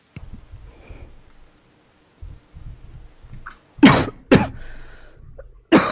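Two sharp, loud sneezes in quick succession during a debate follow quieter breathing and rustling, with another burst at the very end.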